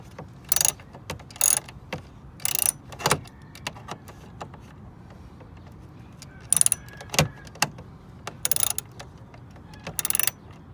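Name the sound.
tightening the screws of a front license plate holder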